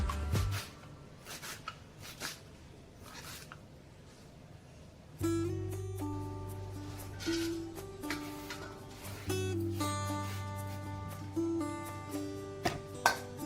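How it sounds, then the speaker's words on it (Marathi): Taro (alu) leaves being finely chopped with a knife, a run of soft close taps at first, then busier rhythmic knocks on the board over a steady tonal hum in the background. "आता मी सर्व भाजी अशीच बारीक अशी चिरून घेणार आहे."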